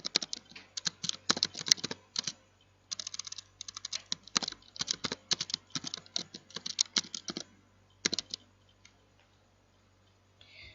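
Typing on a computer keyboard, close and fairly quiet, in quick bursts of clicking keystrokes with brief pauses between runs.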